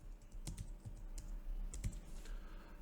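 Fingers tap out code on a computer keyboard in quick, irregular clusters of close, crisp keystrokes with short pauses between, against a quiet background.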